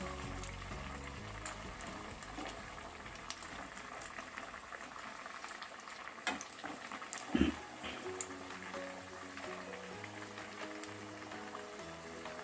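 Dahi vada lentil fritters fry in hot oil with a steady, dense bubbling sizzle. It runs without break for the whole stretch, with a brief louder burst midway, and no one talks.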